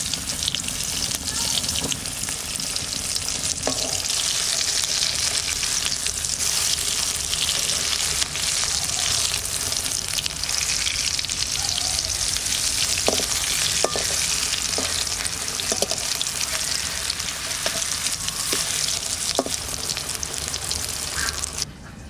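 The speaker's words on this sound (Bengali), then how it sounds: "এবার ভেজে নিই।" Pieces of catla fish fry in hot mustard oil in a wok, giving a loud, continuous sizzle with occasional crackles and stirring clatter throughout, and no talking.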